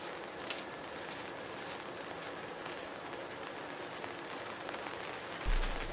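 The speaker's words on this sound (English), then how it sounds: "As soon as I walk out there, it starts to rain." Rain falling outdoors on a quiet day, a steady soft patter of drops on surfaces that holds even throughout, with a brief louder bump near the end.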